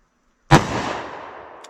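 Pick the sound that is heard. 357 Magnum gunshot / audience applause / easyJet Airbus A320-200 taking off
357 Magnum gunshot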